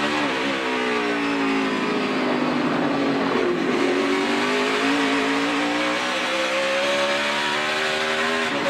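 NASCAR Sprint Cup race cars roar past during qualifying at the track, a loud continuous engine howl with rising and falling pitch as cars accelerate and pass, with no talk over it.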